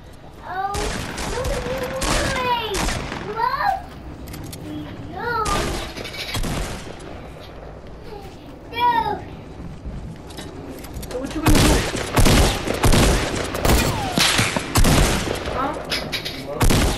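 Busy Fortnite firefight in a 20 vs 20 match: rapid bursts of gunfire, booms and glassy shatters pile up loud and close, mixed with chirpy game effects throughout.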